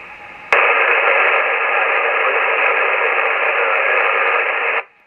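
Loud, steady radio static hiss from an Icom 718 receiver with DSP switched off bursts on suddenly and holds evenly for several seconds before cutting off abruptly.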